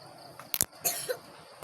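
A single sharp cough bursts out close by, followed a moment later by a softer, breathy second cough or throat sound, set against a quiet room.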